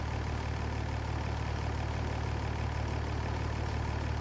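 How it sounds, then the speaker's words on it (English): A Mercedes-Benz tractor engine idles in a farming video game, a steady low droning rumble with a constant mechanical hum, even and unchanging throughout with no speech. "And we got us a tractor I've never used before."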